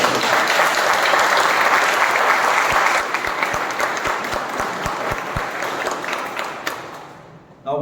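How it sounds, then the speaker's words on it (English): A club meeting audience applauds heartily, dense sustained clapping that is loud at first and then thins out toward the end, with a few sharper individual claps standing out. "Can I have a huge round of applause for that?"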